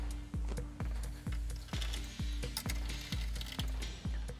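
Screws being driven to fasten a radiator to a metal PC chassis, heard as a steady run of regular, evenly spaced ratcheting clicks, close and fairly quiet.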